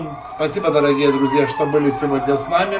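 A fire engine siren sounds from a nearby street, its wailing tones steady and prominent throughout while someone talks over it.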